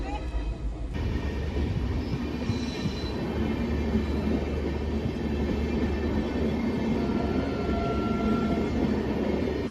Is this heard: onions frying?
no